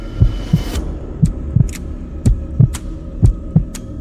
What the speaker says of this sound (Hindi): उन दोनों को अपने दिल की धड़कन भी सुनाई देने लगती है